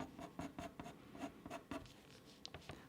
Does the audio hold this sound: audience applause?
no